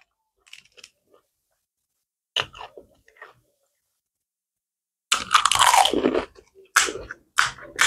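Crunchy fuchka bitten and chewed during an eating challenge: close, sharp crackling crunches in short bursts separated by silence, growing louder and denser toward the end.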